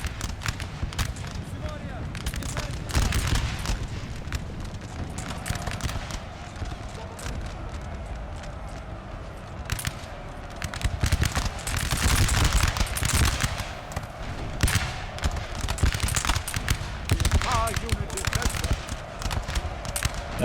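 Musket volleys crackle in Napoleon Total War, with rapid ragged bursts of gunfire and scattered shots repeating across a busy battlefield, with someone talking over much of it.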